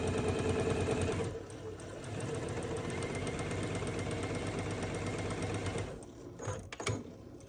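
A sewing machine runs in a continuous fast rattling stitch while joining hourglass quilt block pieces, close and steady, then slows to a few separate clicks and stops near the end.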